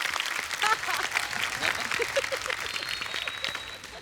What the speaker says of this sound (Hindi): तो एक बार उनके लिए भी जोरदार तालियां पीकू भाई, दिल से।